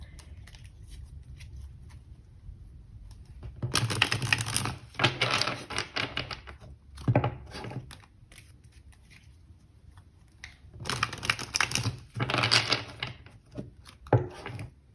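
Tarot cards are shuffled and drawn in two bursts of rapid, crisp riffling and clicking, separated by quiet pauses and a few short taps.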